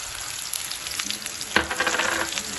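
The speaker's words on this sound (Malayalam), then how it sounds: "എന്നിട്ട് നമ്മൾ എടുത്തിരിക്കുന്ന ആ ശർക്കര ആ ചുരണ്ടി വെച്ചിരിക്കുന്ന സീകി വെച്ചിരിക്കുന്ന ആ ശർക്കര ഇതിലേക്ക് നമ്മൾ ഇട്ട് കൊടുക്കുകയാണ്" Grated jaggery dropped into hot ghee in a pan for a snack, a soft crackling sizzle that swells sharply midway as it hits the fat and keeps fizzing.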